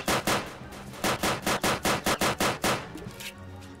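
Rapid gunfire from a Roblox video game: a loud, evenly paced string of about a dozen close shots over roughly three seconds, then a brief tail of quieter game sound.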